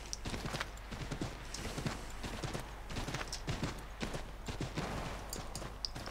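Horse hooves clip-clop in an uneven rhythm in the video game Assassin's Creed III, over a steady background hum, with scattered thuds and clanks mixed in.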